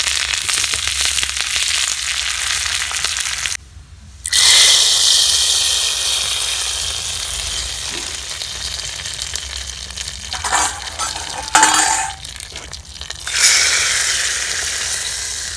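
Dried red chillies, asafoetida, cumin and fresh curry leaves crackle and hiss in hot oil, with a loud, close, continuous sizzle broken by brief pauses, then sharp bursts as the tempering is poured over spinach kadayal.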